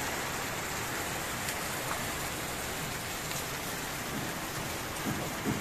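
Heavy rain pouring steadily at a house building site, a dense continuous hiss of drops on surfaces with no pauses, no voices over it.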